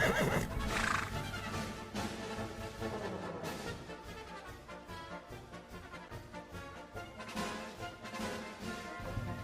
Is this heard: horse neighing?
yes